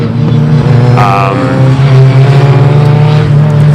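Formula single-seater race cars lapping the Silverstone circuit, a continuous loud engine drone with sustained pitched whine and a brief higher-pitched car passing early on.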